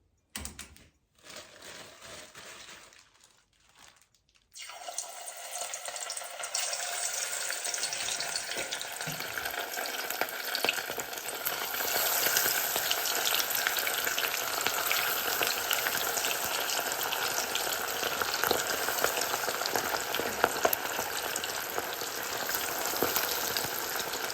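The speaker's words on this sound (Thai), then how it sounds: "เดี๋ยวเรามาทอดกันเลยค่ะ" Salmon pieces frying in plenty of hot oil, a loud, dense crackling sizzle that starts after a few quiet knocks and then runs continuously and evenly.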